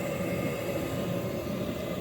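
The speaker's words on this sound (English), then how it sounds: "Vented, you can hear the vent running for the water heater right now." Steady low rushing drone of a household water heater vent fan running in a basement, continuous and moderately loud with no voices.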